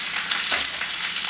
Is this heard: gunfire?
no